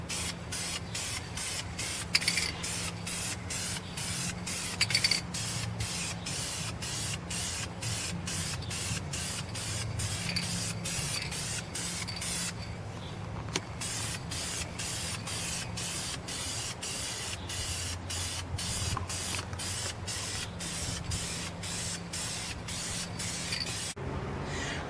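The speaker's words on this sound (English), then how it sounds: "now we're going to put some primer coats on this thing" A spray gun lays primer coats onto a Telecaster guitar body, a continuous close hiss broken by rapid regular bursts and pauses over a low steady hum, no one speaking.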